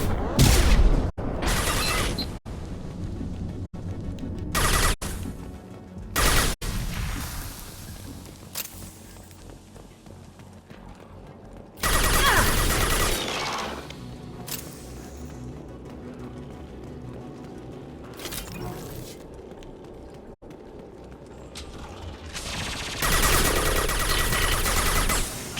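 Rifle fire in the Mass Effect 2 video game, bursts of shots recurring loudly throughout amid busy combat noise and footstep-like clatter.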